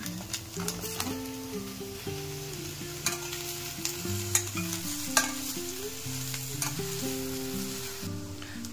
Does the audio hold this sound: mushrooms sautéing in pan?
yes